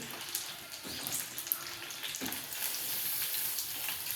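Green chilies and garlic frying in a pan give a steady, soft crackling sizzle with faint stirring scrapes, at low volume and with no voices.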